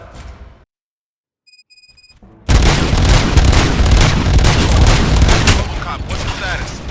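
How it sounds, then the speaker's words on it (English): Gunfire and explosions in the video game RoboCop: Rogue City: a short burst of noise cuts out to near silence, then a loud, dense, sustained roar of booming blasts and shots takes over. "Gunshots? What's going on?"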